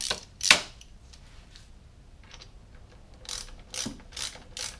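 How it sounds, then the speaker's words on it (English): A ratchet fitted with a 14mm socket clicks as it tightens the caliper bolts on a Honda Goldwing front wheel, giving a few sharp close bursts of rapid clicking with quiet gaps between them. "Now I can take my 14mm socket"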